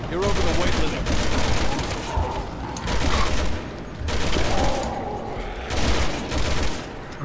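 Repeated bursts of rapid gunfire in Resident Evil 6, loud and close, coming in several sustained volleys with brief gaps between them.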